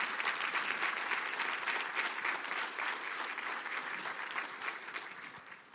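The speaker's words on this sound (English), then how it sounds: "Can the directors please stand and receive a round of applause?" Audience applause at a city State of the City address, honoring department directors; steady, dense clapping fills the room at even strength throughout, tapering slightly at the end.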